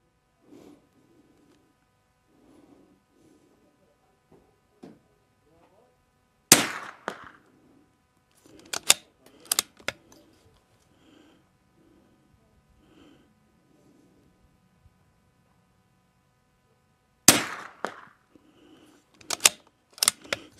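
Two sharp rifle cracks from Eley Tenex ammunition, each loud and isolated, separated by about ten seconds of quiet with faint clicks and handling noises between.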